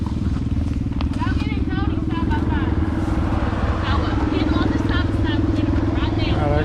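A Honda engine idles steadily at close range as a winch is rigged for a mountain climb, its low droning rumble continuous throughout, with people talking over it.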